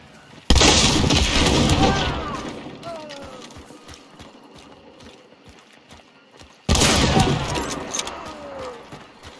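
Two loud gunshots ring out during a hunt, about six seconds apart. Each is a sudden blast followed by a long rolling echo that fades slowly outdoors.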